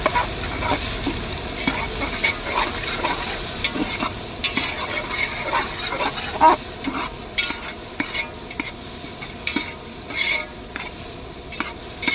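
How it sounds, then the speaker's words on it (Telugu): Broad bean and tomato curry sizzles in a pan while a spoon stirs it steadily, with scraping strokes over a continuous frying hiss, dhaba style. "మొత్తం బాగా మిక్స్ చేసుకోవాలి మొత్తం కలిసేలా తిప్పుకోవాలి"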